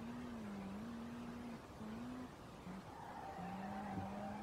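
A car drifts in the SLRR racing video game: a faint, sustained tire squeal wavers in pitch over a low engine hum, breaking off briefly and then returning higher.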